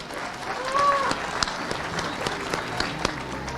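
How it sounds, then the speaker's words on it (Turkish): An audience at a Turkish sports club opening applauds Memduh Büyükkılıç with steady, moderately loud clapping. A faint whistle-like tone and some murmured voices come through underneath. "Memduh Büyükkılıç'ı alkışlıyorum"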